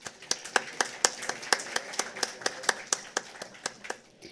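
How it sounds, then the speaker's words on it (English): An audience at a high-level energy conference panel claps in a thin, evenly spaced patter of separate hand claps that stays fairly quiet and steady to the end. "A big round of applause, ladies and gentlemen."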